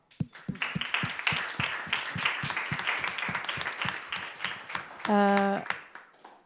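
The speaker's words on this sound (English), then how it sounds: "An applause." Conference attendees at a European gathering on national identities and collective memory applaud: a few distinct, sharp claps quickly swell into sustained group clapping. A brief tonal sound rises near the end before the clapping thins out.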